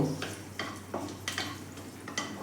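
Dried red chilli and panch phoron seeds stirred in hot oil in a pan for kumror ghonto, with soft spluttering sizzle and repeated spatula scrapes at a steady rhythm.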